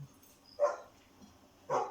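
A dog in the fantasy game Fable II gives two short, moderately faint barks about a second apart, with no talking.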